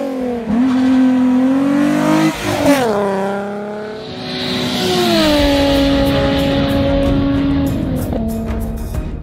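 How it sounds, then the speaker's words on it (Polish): A Volkswagen VR6 six-cylinder engine revs loudly up and down, a deep roaring tone rising and falling through gears, close and continuous with no talking. "jest silnik, który nie warczy, jak w czterocylindrowym G60, ale grzmi"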